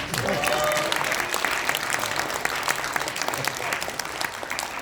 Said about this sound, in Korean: 박수를 치신 김에 힘차게 박수를 주세요